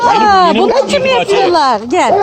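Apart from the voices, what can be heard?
None of the usual background noises is heard.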